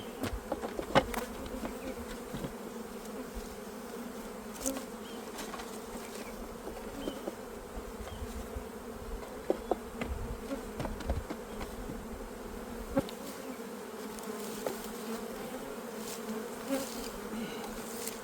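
Honeybees buzz steadily in a continuous, moderately loud drone while a full-size spring colony is opened and split, with brief clicks and knocks of frames and boxes through the hum.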